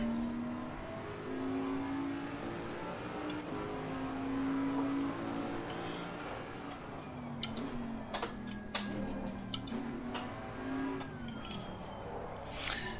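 A BMW M6 race car engine in the video game Assetto Corsa Competizione drones steadily, rising and falling in pitch as it revs through gears, with faint ticking and clicks near the end.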